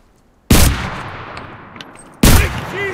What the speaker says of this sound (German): Pass auf, wo du schießt! Schießt auf deine eigenen Leute!